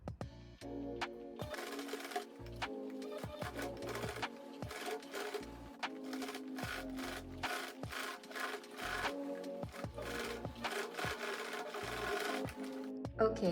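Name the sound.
sewing machine stitching bustier seam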